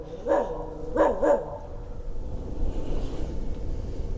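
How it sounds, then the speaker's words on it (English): A dog barks three times in quick succession, close and loud, the last two nearly back to back, then a low steady hum from a Vevor 8KW diesel heater fills the background. "Of course my dog starts barking."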